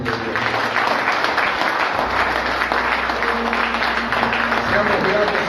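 A church congregation applauds loudly and steadily, a dense wash of clapping with voices calling out underneath.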